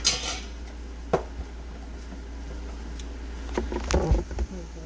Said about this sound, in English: Whisk that till it's melted.